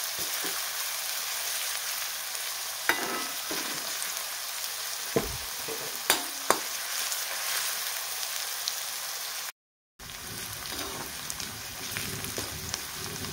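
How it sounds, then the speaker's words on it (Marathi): Onion fries in oil in a pan for egg bhurji, giving a continuous crackling sizzle with a few sharp clinks of a spoon stirring. The sound drops out briefly near the end, then resumes. "तर बघू शकता कांदा आता छान परतत आलेला आहे"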